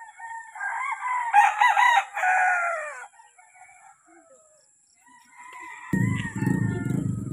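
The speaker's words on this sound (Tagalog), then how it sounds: "Meron ditong farm ng mga tandang na manok panabong." Fighting roosters on a farm crow loudly and repeatedly in long cock-a-doodle-doo calls, with a pause and then more crowing joined by low clucking and background farm noise.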